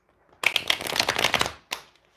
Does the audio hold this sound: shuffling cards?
yes